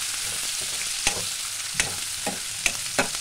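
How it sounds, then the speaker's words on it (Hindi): Chopped onions frying with spices in a pan for a spicy potato and brinjal curry, a soft steady sizzle broken by five sharp spatula scrapes and knocks. "अच्छे से हमें इसको कलर चेंज होने तक भूनना है"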